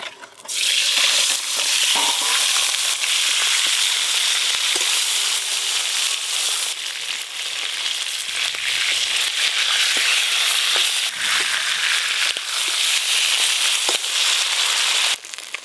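Chunks of aar fish fry in hot mustard oil in a pan, giving a loud, close, unbroken sizzle dotted with sharp crackles and pops throughout.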